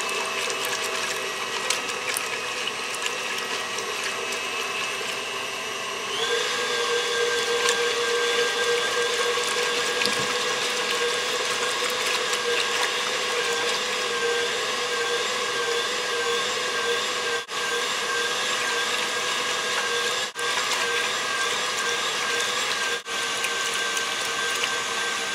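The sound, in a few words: electric mixer beating egg whites for milk tart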